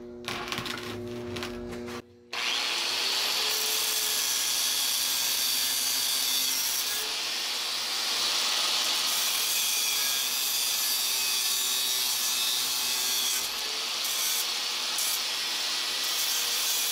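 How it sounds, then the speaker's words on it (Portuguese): Grinder or cutting tool trimming burrs off a homemade steel shaft and bearing housing, a loud continuous harsh whine that drops out briefly near the start, then grinds on steadily with no talk. "Corta as rebarbas."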